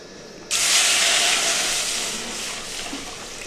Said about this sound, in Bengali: কড়াইয়ের মধ্যে জল দিয়ে দেবো